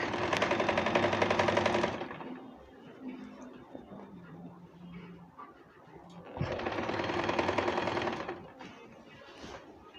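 A sewing machine stitches panel skirt fabric in two steady, fast-rattling runs of about two seconds each, separated by a quieter pause with faint handling noise.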